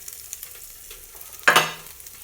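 Greens dropped into hot oil in a pan give a sudden loud burst of sizzling that quickly settles into a softer crackle, after a quiet lead-in.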